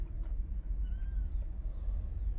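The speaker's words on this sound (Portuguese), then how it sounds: "Os outros gatinhos chegou." Kittens give a few faint, thin meows over a steady low rumble of background noise.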